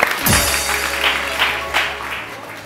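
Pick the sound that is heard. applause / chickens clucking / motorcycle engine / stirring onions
applause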